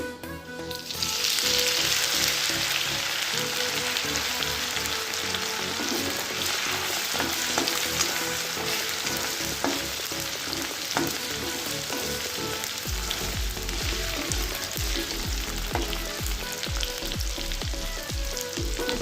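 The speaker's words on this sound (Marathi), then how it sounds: "तेल चांगलं गरम झाले आपलं आता अद्रक लसणची पेस्ट टाकूया" A loud, steady sizzle of ginger-garlic paste frying in hot oil starts suddenly and continues throughout, with occasional stirring scrapes.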